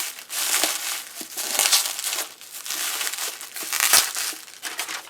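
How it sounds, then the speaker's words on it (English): Mini bubble wrap is handled over a packed pottery order, giving a close, continuous crinkling and crushing with uneven swells of loudness. "I will be using a layer of the mini bubbles to go over top of this"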